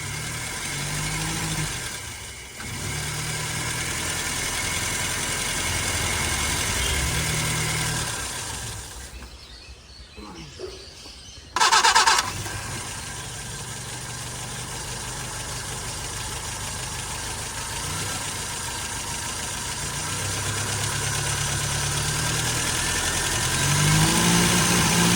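A vintage Fiat 1100 car, restarted after ten years of sitting, idles with a steady mid-pitched engine rumble that holds close and loud throughout, with one brief dip to near quiet before it picks up again and runs on evenly.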